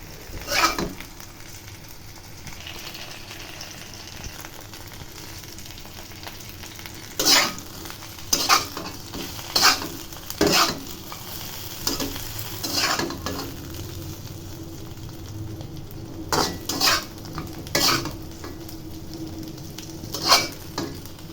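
Oil heats in a pan for frying an egg, with a low continuous sizzle broken by repeated sharp clinks and scrapes of a utensil against the pan.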